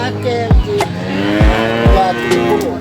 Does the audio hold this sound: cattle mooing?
yes